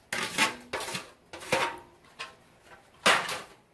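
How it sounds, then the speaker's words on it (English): Chopped onion chunks dropping into a pot of pinto beans make several separate clattering knocks and thumps against the pot, spaced irregularly and close by, with no talking. "right now, I'm gonna add some chopped onions"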